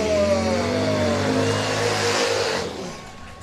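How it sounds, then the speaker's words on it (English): Harley-Davidson racing motorcycles at the Bradford Beach Brawl race rip past the broadcast booth close by, a loud snarling engine roar that holds and then begins to fade as they move away. "I hope you guys can hear that, those engines ripping by our booth"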